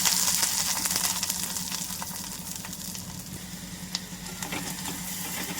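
Onion pieces fry in cold-pressed oil in a pan, giving a steady close sizzle that holds evenly throughout with no talking.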